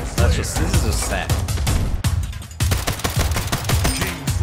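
Rapid bursts of automatic gunfire from the video game Splitgate crackle in quick succession, loud and close, with a voice talking over parts of the shooting.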